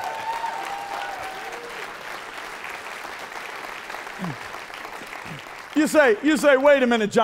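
An audience at a Bulgarian church conference session breaks into applause near the end, a burst of clapping after a stretch of quieter room sound with a voice talking.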